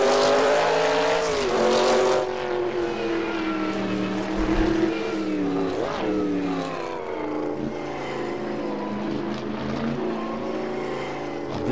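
Twin-turbo V8 of a Sauber C9 Group C race car in Assetto Corsa roars loudly and continuously, revving up and shifting through gears with sweeping pitch rises and drops, heard up close without any talking.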